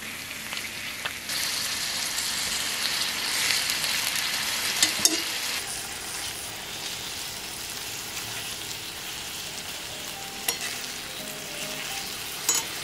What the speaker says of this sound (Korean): 마늘과 양파의 향이 맛있게 올라오면 토마토를 넣어 앞뒤로 익히세요